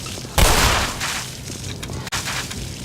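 Loud, rapid enemy gunfire in the video game Black Mesa breaks out in a sudden burst, then continues in quicker volleys with a brief dropout near the end.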